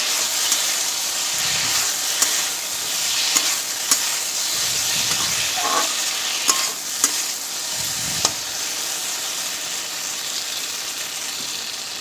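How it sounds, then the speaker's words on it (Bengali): Okra fries in a pan with a spice mix, a steady close sizzle with scraping stirs and occasional clicks of the utensil against the pan. "মশলাটা কিন্তু দিয়ে আবারও ভেন্ডির সাথে ভালো করে মিশিয়ে কিছুক্ষণের জন্য ভেজে নেব"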